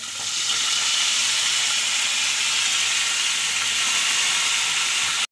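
Potatoes and chopped bottle gourd sizzle in hot oil tempered with green chilli and whole spices, a steady, close, bright frying hiss that holds evenly throughout with no voices.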